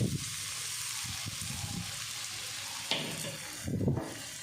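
Chopped onions fry in oil in a wok with a soft, steady sizzle. A few stirring scrapes and knocks break in briefly.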